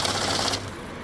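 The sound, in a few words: cash counting machine counting banknotes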